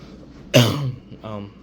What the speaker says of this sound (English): sorry if I cough a little bit